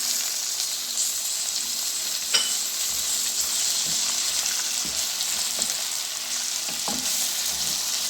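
Tomatoes with turmeric and salt fry in a pan with a steady, close sizzle, broken by a few soft taps from a stirring spoon.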